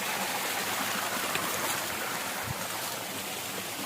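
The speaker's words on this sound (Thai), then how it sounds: "ฟังเสียงน้ำตกผ่อนคลายบำบัด" Water pours steadily down Lan Rak waterfall in Nakhon Nayok, Thailand, a loud, continuous rushing hiss with no breaks, heard up close.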